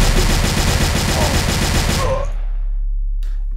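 Rapid automatic Uzi fire from a Unity first-person shooter game, loud and close. A dense burst of shots runs for about two seconds, then stops abruptly and leaves a short decaying tail and a low hum.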